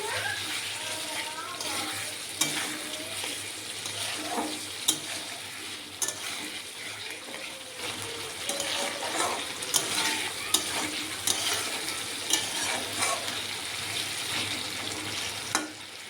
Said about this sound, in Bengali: আস্তে আলুটা দিয়ে মশলাটাকে ভালো করে কষাতে হচ্ছে, কষিয়ে নিচ্ছি।